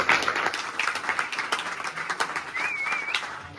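An audience at a short-film screening breaks into applause, a dense, fairly close wash of clapping hands that holds steady throughout, with a thin whistle rising briefly near the end.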